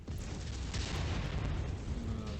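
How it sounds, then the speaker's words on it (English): Missile explosions in MechWarrior 5: Mercenaries, a dense continuous roar of booming blasts and rumble that stays loud and steady throughout, with no talking. "Incoming missile."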